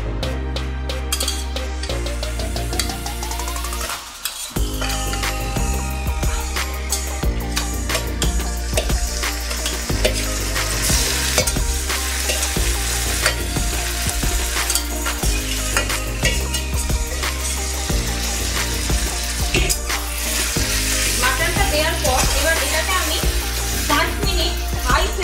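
Marinated mutton frying on high flame with browned onions, a continuous sizzle with frequent spoon-on-pot stirring clatter, close and fairly loud, interrupted by one brief dropout.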